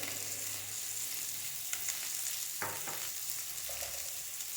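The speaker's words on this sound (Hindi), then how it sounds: "सिर्फ 1 मिनट के लिए हम इन्हें साटे कर लेंगे" Long-cut cucumber and carrot sauté in a frying pan with salt, giving a soft, steady sizzle with occasional stirring scrapes and light clinks, fairly faint and with no talking.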